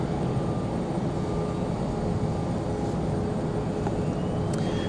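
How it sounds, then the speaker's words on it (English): A Cessna Citation Encore business jet departs from Raleigh Durham airport, a steady, sustained engine roar at moderate distance, holding even throughout with no voices. "Cessna Citation Encore, that last departure"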